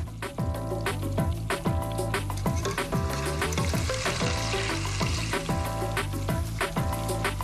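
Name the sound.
wontons frying and bubbling in oil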